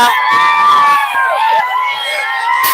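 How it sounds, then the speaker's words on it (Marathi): BJP party workers celebrate an election win in Modnimb, a loud dense crowd of cheers and shouts that holds steady throughout, with whistle-like tones rising above the din. "कार्यकर्त्यांचा जल्लोष मोठ्या प्रमाणात या ठिकाणी सकाळपासूनच"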